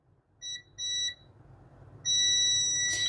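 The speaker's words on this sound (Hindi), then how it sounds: "यहाँ चेक करो, यहाँ बीप आएगा इसका।" A multimeter's continuity beep while probing ground lines on a mobile phone circuit board: two short high electronic tones, then a longer sustained beep, clear over faint background hum.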